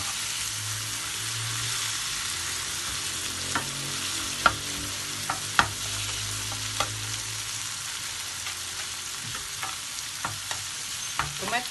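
Pork chop frying in a pan with carrot and green peas, a continuous close sizzle with scattered pops and light clinks of stirring.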